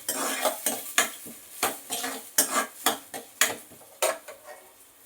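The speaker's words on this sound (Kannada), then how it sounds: "ಫ್ರೈ ಮಾಡ್ಕೊಳ್ಳಿ ಸ್ವಲ್ಪ." Onion frying in a pan, stirred with a metal spoon that clatters and scrapes against the pan in sharp, fairly regular strokes over a soft sizzle, close by and without speech.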